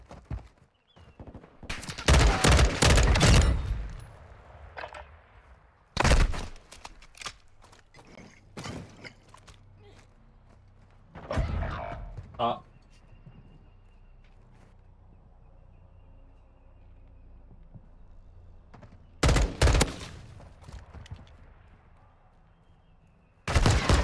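Gunfire in a video game shooter, with several loud sharp bursts of rapid shots separated by quieter stretches of faint background noise, and a final burst at the end.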